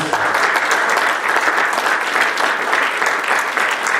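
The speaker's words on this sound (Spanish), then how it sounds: "Eso es de aplaudir, hermano" A church congregation bursts into sustained, dense applause, steady and loud across the whole stretch with no break.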